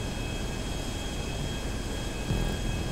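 Steady broadband aircraft engine drone from a plane in GTA 5 Online, a constant loud roar with a thin high whine running throughout, no voices over it.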